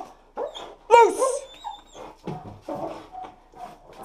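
A dog in a sawmill office whimpers and lets out short yips and barks in several bursts, close and fairly loud, with high whines between them.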